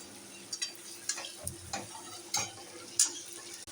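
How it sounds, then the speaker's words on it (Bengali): Fish heads sizzling in a pan of cooked spice paste with cumin powder for murighonto, a low frying hiss broken by irregular clicks and spoon taps, close by and without speech. "মাছগুলো দিয়ে দিলাম, মাছের মাথা।"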